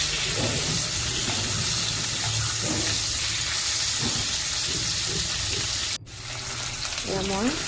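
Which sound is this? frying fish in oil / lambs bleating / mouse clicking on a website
frying fish in oil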